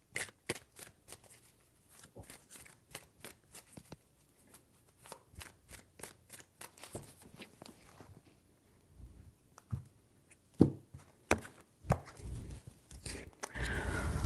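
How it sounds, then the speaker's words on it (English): Tarot cards shuffled by hand in three quick bursts of riffling and slapping, close and fairly quiet, with short pauses and soft handling noises between, no talking. "3 shuffles"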